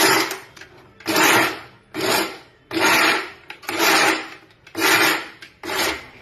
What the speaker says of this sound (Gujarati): અમારે મિક્સરમાં ઝટકા મારીને પીસીએ।